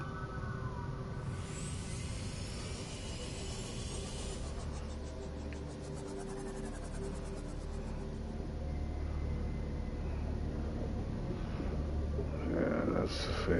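Phaser in the game Subnautica, a low steady droning hum under a hissy electronic wash, with a rising buzzy flutter partway through and a rough burst near the end.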